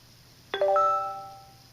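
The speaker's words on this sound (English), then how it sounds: "it gives you a little chime saying that you got it right" A speech therapy app plays a short chime for a correct answer: a bright, bell-like cluster of tones that rings out and fades over about a second, alone against faint background hiss.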